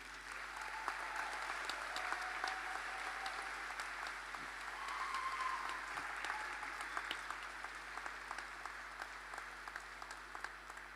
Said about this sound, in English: Please, can I ask each and everyone to give a round of applause to our B.Ed students.